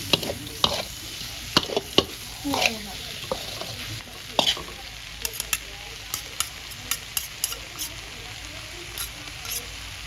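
Shrimp stir-fried with shrimp paste and fish sauce in a pan, soft sizzle under intermittent scraping and clinking of a spatula against the pan, irregular taps spread over the stretch with a faint steady hiss.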